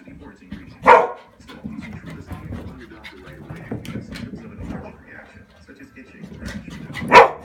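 A dog barks in two sharp, loud bursts near the start and end, with panting and whimpering in between, while a person talks close by.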